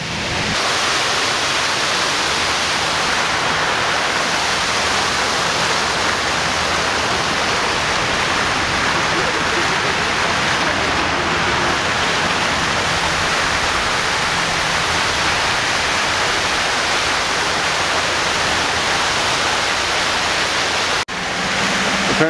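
A garden water fountain in Yokohama, Japan, beside statues, splashes continuously in a steady, loud, broadband rush with no breaks or voices, like constant falling water heard from nearby.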